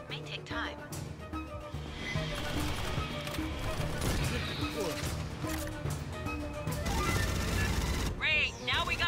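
Gunfire in Aliens: Fireteam Elite, a sci-fi video game battle against aliens, dense bursts and rattling shots mixed with loud game effects, music and voices throughout.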